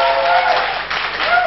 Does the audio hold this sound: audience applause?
yes